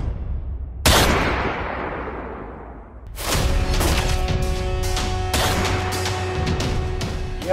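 Gunfire in a Sindhi TV soap drama scene: a sharp loud burst near one second, then from about three seconds a sustained stretch of repeated shots and cracks over a continuous background roar.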